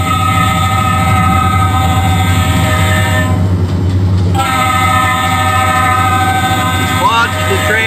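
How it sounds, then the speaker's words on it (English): Train passing in the Trainz rail simulator game: a loud, continuous rolling rumble with sustained horn tones that briefly drop out midway and return, ending with a rising whistle-like sweep. "Watch the train go by."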